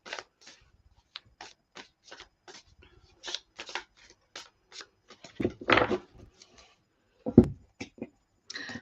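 A deck of tarot cards being shuffled by hand at close range, a run of quick crisp riffling flicks and slaps in irregular bursts, with a couple of louder shuffles near the end.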